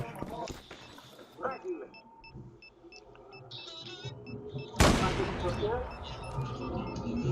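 Gunfire in the Zula online shooter during a clan match: a sharp, loud broadband shot bursts out near the end and rings on, with electronic game tones and voices beneath.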